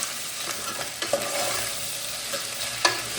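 Potato chips are stirred in hot oil with mustard seeds, giving a steady close sizzle and frying crackle. A few sharp scrapes and clicks of the spoon against the pan stand out, with no talking.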